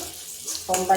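Peanuts, cumin, chillies and ginger hit hot tempering oil in a pan, giving a short, close burst of crackling sizzle that swells toward the end.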